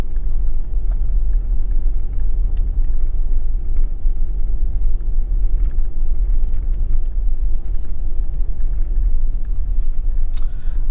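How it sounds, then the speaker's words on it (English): Car driving over a bumpy rural road in St. Elizabeth, Jamaica, a steady loud low rumble of engine and road noise throughout with faint scattered rattles and knocks. "So we having some bumpy ride."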